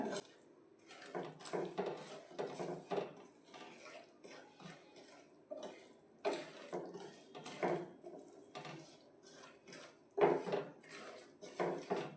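Semolina being roasted in ghee in a pan for sheera: intermittent scraping and clinking of a spatula against the pan, close and moderately quiet, in uneven bursts with brief pauses and no talking.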